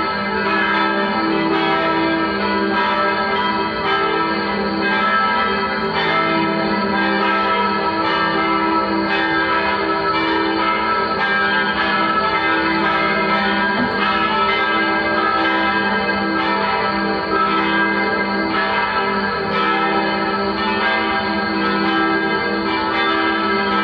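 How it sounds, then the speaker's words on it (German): Church bells ring outdoors during a walk in nature, their loud, overlapping peals sounding continuously and evenly the whole time with no talking. "Wir warten, bis die Glocken fertig sind."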